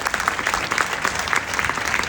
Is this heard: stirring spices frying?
no